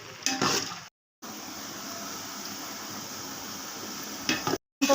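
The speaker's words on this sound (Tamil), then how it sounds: "இது நல்லா கோல்டன் கலர் கோல்டன் ப்ரௌன் வர வரைக்கும் நம்ம வதக்கணும்" Six hundred grams of large onions frying in oil until golden brown for a tomato biryani, a steady close sizzle with a few stirring scrapes at the start and end, broken by two short silent gaps.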